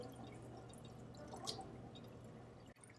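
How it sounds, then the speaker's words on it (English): Water drains through a small gravity siphon from a cup into a collection container, giving a faint steady trickle with soft drips and a brief splashy burst midway. "water is draining from this cup, which represents my sump, and is going down into my collection container"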